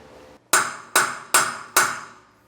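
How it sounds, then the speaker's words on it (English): Four sharp hammer blows ring out on a steel boat trailer frame during a Timbren axle-less suspension install. They land at a steady, deliberate pace, close and loud, each one ringing briefly before the next. "hammer this over just a bit more"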